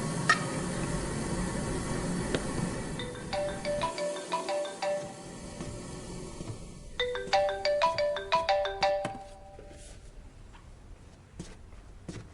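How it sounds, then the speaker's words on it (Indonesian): A mobile phone ringtone plays a bright, repeating melodic pattern at a noodle stall, at moderate volume over steady background hiss and faint kitchen sounds. "HP kamu berdering."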